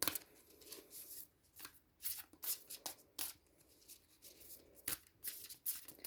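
A deck of Shaman oracle cards is shuffled by hand in quick irregular riffles and slaps, close and fairly quiet, with short pauses between bursts.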